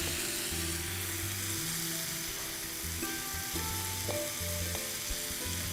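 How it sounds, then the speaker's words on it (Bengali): Vegetables with capsicum and soy sauce frying in a pan make a steady broadband sizzle throughout, with humming tonal background noise underneath and a couple of faint clicks near the end. "ভেজিটেবলগুলো রান্না হতে থাকুক"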